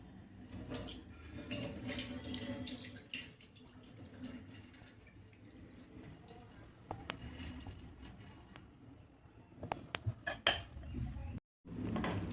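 Water is drained off freshly churned homemade butter, made from milk cream and rinsed in ice water, splashing and trickling in a kitchen with intermittent drips and clinks.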